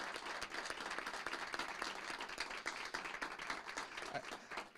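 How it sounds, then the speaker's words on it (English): A city council meeting audience applauds for an outgoing city manager, with dense and fairly distant clapping holding steady for several seconds. "let's give him a big round of applause"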